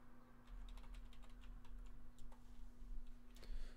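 Faint, irregular clicks of typing on a computer keyboard tap along over a steady low electrical hum. The light, scattered keystrokes continue without any speech.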